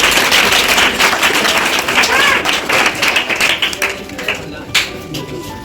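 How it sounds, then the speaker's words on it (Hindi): Audience applause at a school farewell ceremony, a dense, steady clapping that thins out toward the end, with a few louder claps near the close and some talk mixed in. "एक बार ताली बजाइए"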